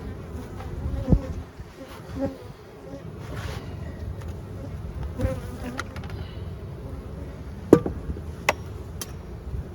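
Honey bees buzz continuously around an opened hive during an inspection of a split with laying workers, a dense close hum with occasional sharp knocks and clicks of hive handling.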